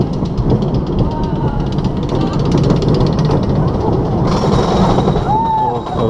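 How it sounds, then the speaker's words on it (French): A new Gravity Group wooden roller coaster train at Parc Astérix rumbles and clatters steadily along the track, a loud continuous roar with people talking over it. "c'est le nouveau train de Gravity Group"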